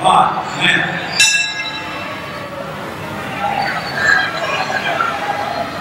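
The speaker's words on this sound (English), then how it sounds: "So the bell sounded." A wrestling ring bell at a 1980 Houston match rings once with a sharp, ringing strike between falls, then fades under a noisy arena crowd.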